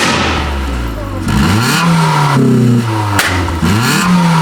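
A Mitsubishi Lancer fitted with a gunshot exhaust mod revs hard, rising and falling several times with sharp popping cracks from the exhaust, loud and close.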